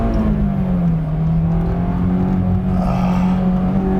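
A 2008 Honda S2000 CR roadster is underway, its engine note loud and close with a steady tonal drone. The pitch dips slightly, then climbs gradually over four seconds.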